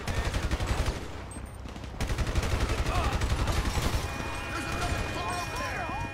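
Rapid gunfire in GTA 5 on PC, a steady run of sharp shots that carries through the clip under a voice talking.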